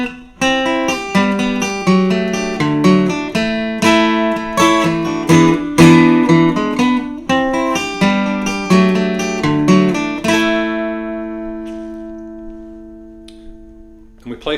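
An acoustic guitar plays the middle section of a song, with strummed chords in a steady, syncopated pattern, loud and close. It ends on a final chord that rings out and fades, with no voice.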